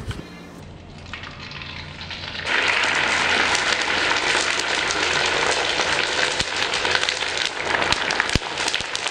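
Food frying in a pan, starting quietly and then rising into a loud, dense sizzle and crackle with sharp pops, going on steadily to the end without talking.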